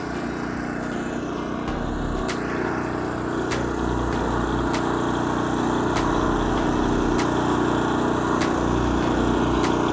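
Kaskad walk-behind tractor with a rotary tiller cutting into virgin soil, its engine droning loud and steady throughout with a rough, labouring mechanical rumble and occasional knocks.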